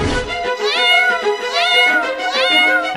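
A cat gives three drawn-out, rising-and-falling meows in quick succession, loud and close, with no talk over them.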